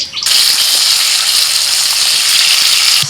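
Potatoes frying in a pan of hot oil make a loud, steady, close sizzle that hisses on without a break after a quieter start.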